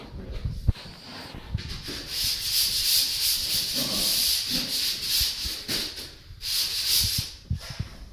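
Hand sanding of dried plaster on an interior wall, a steady close rasping scrape in long sustained strokes with brief pauses between passes.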